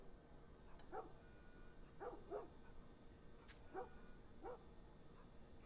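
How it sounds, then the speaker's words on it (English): A dog in The Last of Us Part 1 barks repeatedly at a distance, in short sharp bursts of one or two barks spaced about a second apart over a low, steady background hum. "that dog is barking like crazy"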